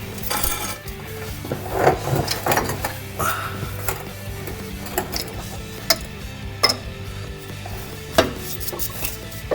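Ratcheting clicks from a tool turning the rear tie rod adjuster on a C4 Corvette, repeated irregular ticks close up over a steady low background hum, no talking.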